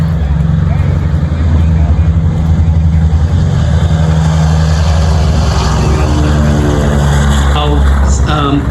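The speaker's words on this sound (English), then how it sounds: "The third video is a B-29 taking off" B-29 bomber taking off at a WWII weekend air museum event, its radial engines giving a loud, continuous propeller drone that stays steady throughout, with rising whine late on.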